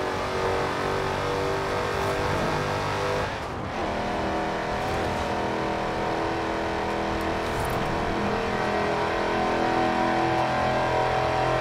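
Car engine revving steadily and loudly in the racing game Forza Horizon 4, played with a Thrustmaster T-GT steering wheel, a continuous dense roar with a brief dip near the four-second mark and occasional tire noise.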